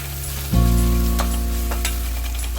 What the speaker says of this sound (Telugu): అల్లం వెల్లుల్లి పేస్ట్ 1 నిమిషం వేగనిచ్చి